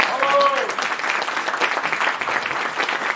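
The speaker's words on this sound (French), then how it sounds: "Donc applaudissez-le, Marc Daoud." An audience applauds for Marc Daoud at an evening gathering, a steady dense round of clapping that fills the whole stretch, with a brief voice or whistle-like tone near the start.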